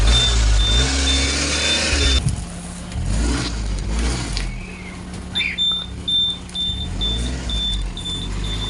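Car engine revving hard with strained rumbling while the vehicle sits bogged down on a rural road in Pandakan, Pinamungahan, South Cebu, rising and falling in repeated bursts, with a steady tone underneath.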